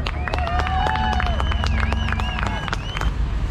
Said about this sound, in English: Give her a big round of applause there.